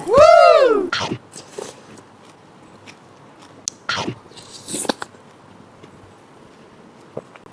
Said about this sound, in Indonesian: Inovasi terbaru, makan rengginang dipadu dengan sup.